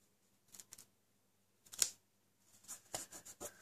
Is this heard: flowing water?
no